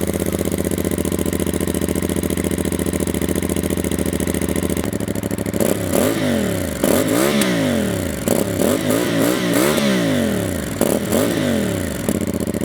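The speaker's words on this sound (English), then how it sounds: "Let's hear it, because what's a cruiser without a solid exhaust note?" A 2025 CFMoto 450CL-C cruiser motorcycle idles steadily for about five seconds, then its exhaust barks through a series of sharp throttle blips, each rev climbing and falling back, loud and close with no talk.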